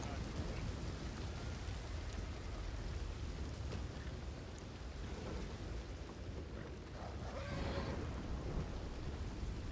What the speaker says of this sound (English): The wind is out there just howling